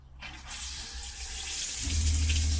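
Water running from a tap and shower in a DIY campervan, starting after a brief silence as a steady hissing spray, then joined near the end by a low pump hum as the flow strengthens.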